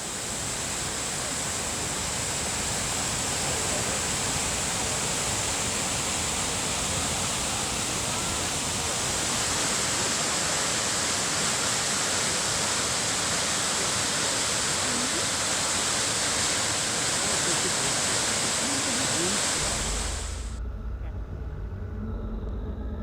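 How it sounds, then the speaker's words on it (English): Krimml waterfalls in the Austrian mountains: a steady, loud, broadband roar of falling water fills the clip without pause, then cuts off abruptly near the end. "That was the Crimmel waterfalls, which was quite a hike up into the mountains there for old codgers like us, but well worth it."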